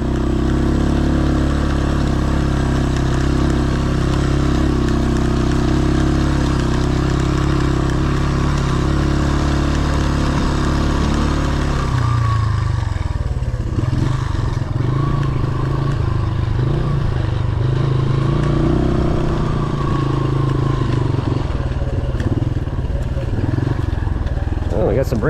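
A 1970s Honda XL Enduro dual-sport motorcycle is ridden along a trail. Its engine drones steadily and close throughout, and the note roughens and shifts halfway as a rider talks over it.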